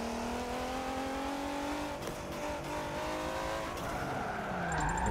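Nissan R35 GT-R drifting at Lime Rock in Forza Motorsport 7, a steady engine drone with shifting pitch and a sustained tire skid running throughout, close and continuous.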